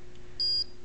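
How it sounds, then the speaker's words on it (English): A single short electronic beep from a 555 timer buzzer, high-pitched and steady, sounds once over a faint background hum. "make the pause in between the buzzer noise right there last longer"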